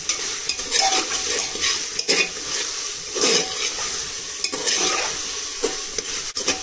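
Tomatoes frying in a pan on a high flame while being stirred: a loud close sizzle broken by repeated scraping, sloshing strokes of the spoon at an uneven rhythm, with no voices.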